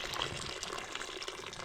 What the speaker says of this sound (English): that's the water boiling